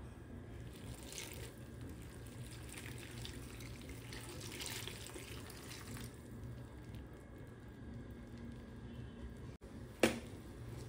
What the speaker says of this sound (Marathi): गरम पाण्याने धुवू द्या ना एकदा.